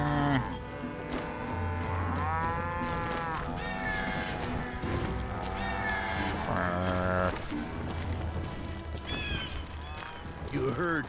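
A cow in a video game moos repeatedly in long, drawn-out calls, loud and close, with game sounds and voices running alongside.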